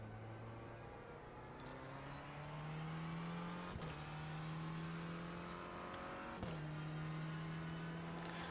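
Renault Clio race cars start a race at Navarra in the iRacing video game, with engines droning and rising in pitch as they accelerate, a steady whirring pack of cars at moderate loudness.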